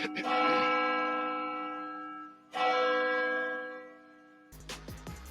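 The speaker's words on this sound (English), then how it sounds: "can we drop a church bell for the career that was lost in the situation" A church bell tolls twice, each deep ringing strike decaying slowly, followed by a short burst of muffled noise.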